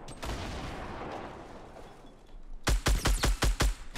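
Sniper and rifle gunfire in a Fortnite Battle Royale match: a steady rumble of distant shooting, then a loud, rapid burst of five or six sharp shots close together near the end.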